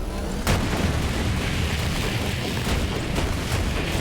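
Grenade blast and gunfire in the video game Borderlands 3, a dense, loud stream of booms and bursting shots that runs on without pause.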